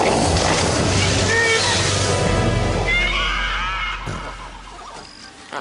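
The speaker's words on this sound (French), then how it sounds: "Voici d'ailleurs qu'approche un propaléothérium, autrement dit, une très ancienne forme de cheval." A propalaeotherium, an ancient small forest-dwelling horse ancestor, neighs in a loud, drawn-out whinny over a constant low rumble, trailing off toward the end.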